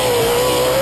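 Race car engine revving through a Borla exhaust, loud and close, holding one steady sustained tone for under a second. No talking.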